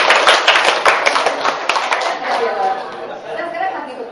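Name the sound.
workshop audience clapping hands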